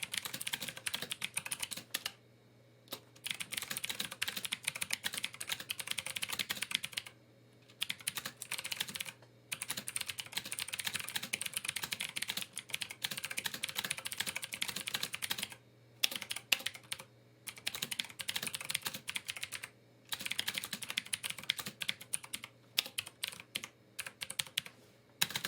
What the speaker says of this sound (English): Here's some typing ASMR.